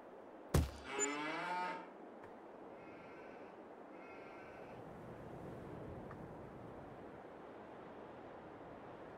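Cows moo in a cowshed in Farming Simulator 22, one loud nearby lowing call followed by two fainter, shorter calls further off over a steady ambient hum, with no talking.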